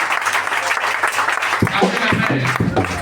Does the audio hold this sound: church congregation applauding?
yes